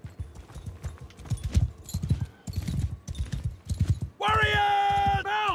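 Horses galloping in the Mount & Blade II Bannerlord video game, a steady rolling drum of hooves with a loud neigh near the end.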